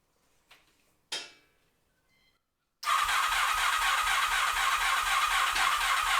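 A Honda Magna VF700 motorcycle clicks and briefly cranks a couple of times after a fuel system flush, then the engine catches and settles into a loud, steady, rapidly pulsing idle.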